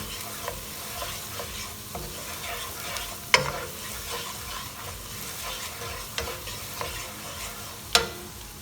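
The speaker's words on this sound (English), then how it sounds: "Just mix this properly. Let the turmeric and the saffron gets its flavor into it, into the onion." Onions with turmeric and saffron stirred in a frying pan for seafood paella give a continuous soft sizzle, with spoon scrapes and a few sharp clinks against the pan, close up and without speech.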